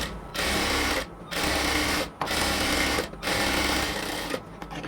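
A sewing machine runs in steady loud bursts of stitching along a cotton kameez border, pausing briefly between about five runs with no talk over it.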